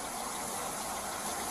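A car engine idles steadily through a roadside traffic stop, a constant mid-range rumble with faint vibration and no voices over it.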